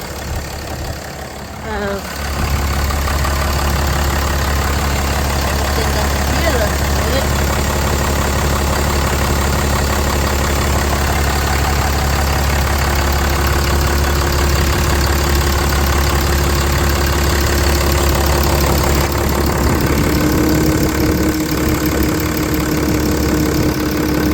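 A Ram 3500 pickup's engine idles with a steady low rumble and faint ticking, close and continuous throughout, a brief dip near the start.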